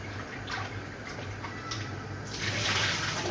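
A sweet potato is washed under running tap water at a sink, a steady close rush of water that grows louder and fuller near the end, with no talk.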